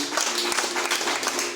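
A congregation in a church breaks into sustained applause, a thick, even roar of many hands clapping at once, loud and close, with a faint tone underneath.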